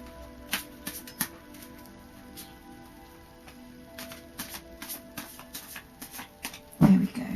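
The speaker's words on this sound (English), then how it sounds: "so I'll just do a final shuffle for you." Oracle cards being shuffled during a fairy oracle reading, giving a run of quiet papery flicks and riffles at a steady pace, ending in a louder handling sound.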